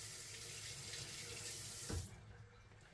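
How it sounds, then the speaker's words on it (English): A kitchen faucet runs steadily while hands are rinsed at the sink, a close broadband water hiss that stops abruptly near the end, leaving a quiet room. "Let me rinse off my hands."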